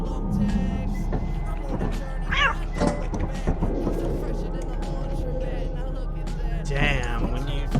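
A cat meows twice in the Lethal Company video game, short rising calls standing out over a low engine-like rumble while players talk throughout.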